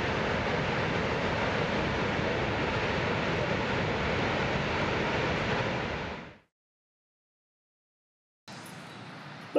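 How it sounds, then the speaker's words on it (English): Roar of Shoshone Falls, a 212-foot natural waterfall in the United States, heard as a steady, loud broadband rush for about six seconds before cutting to silence, then resuming briefly. "we stopped at Shoshone Falls, which is one of the largest natural waterfalls in the United States"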